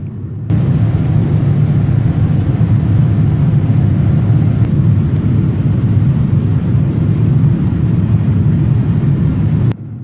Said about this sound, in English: Thanks to the engines of General Electric, the cabin is also very quiet even during the takeoff.